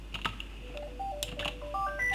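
A telephone gives a quiet run of short electronic keypad beeps and tones, with a few faint clicks before them, heard close and alone without any talking.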